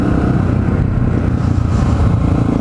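A supermoto motorcycle engine runs loud and close, a steady rough buzzing drone with rapid pulsing and little change in pitch over a few seconds, with no voices.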